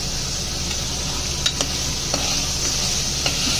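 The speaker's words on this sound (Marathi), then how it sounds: "पेस्ट चांगली परतून घ्यायची आता" Masala paste sautéing in hot oil for a soybean curry, a continuous close sizzle with a few sharp spoon scrapes and taps against the pan.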